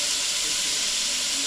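Ground beef broken into bite-sized pieces and spread out in a pan sizzles with a steady, even hiss, close and continuous, with no other sounds over it.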